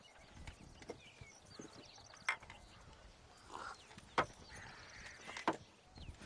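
Horse hooves clip-clopping in Red Dead Redemption, a soft, uneven run of faint thuds with a few sharper knocks standing out, low in the mix under a quiet ambient background.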